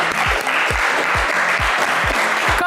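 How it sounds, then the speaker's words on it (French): A studio audience on a French game show applauds the day's winner with steady, dense clapping that continues loud and unbroken, while a rhythmic low thumping pulses underneath. "On vous applaudit encore."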